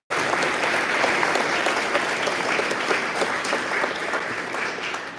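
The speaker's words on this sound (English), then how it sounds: "Round of applause," An audience at an American Legion Boys Nation senator oath-of-office event claps loudly and steadily. The applause starts abruptly, sounds close and dense, and holds at a constant level throughout before easing slightly at the end.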